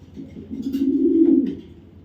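A male Green Neck Budapest racing pigeon gives a single low, close coo lasting about a second.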